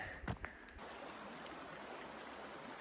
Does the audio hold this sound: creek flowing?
yes